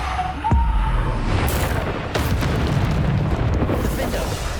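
A Bombarda spell explosion in the Hogwarts Legacy video game, a heavy booming blast with a sharp onset followed by rumbling debris and a second burst, with a voice heard briefly.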